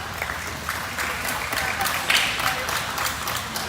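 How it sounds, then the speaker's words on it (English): A round of applause from the crowd at a youth beef heifer show, steady clapping with scattered voices and a brief whistle-like cheer partway through. "Give these young ladies a round of applause."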